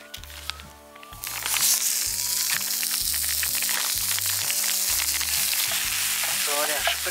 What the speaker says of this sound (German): So, der Speck darf jetzt mal schön aufknuspern, schön ausgelassen.